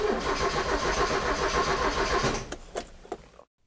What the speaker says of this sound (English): Try to start the car.